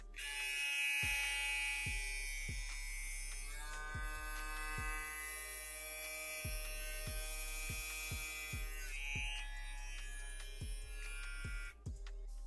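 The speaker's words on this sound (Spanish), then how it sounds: "Ahora lo voy a encender y voy a tratar de detener la cuchilla para ver si de esa manera eleva lo que son sus revoluciones" Wmark NG-X1 hair clipper with a Vector motor running, a steady high electric buzz with rich harmonics held close and alone, its pitch shifting slightly as the blade is loaded, with faint periodic clicks underneath.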